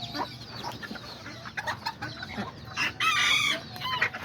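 Small Serama and Azteca hens and a rooster cluck and call close by, scattered bursts of clucking building to a louder, brighter crow-like outburst near the end.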